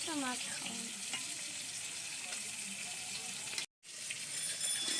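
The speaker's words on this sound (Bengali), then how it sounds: "আকাশের জন্য বাটা মাছ ভাজা চলছে এই যে কড়াইতে" Bata fish fries in a wok, giving a continuous close sizzle with faint scraping, broken once by a brief moment of silence before the spatter resumes.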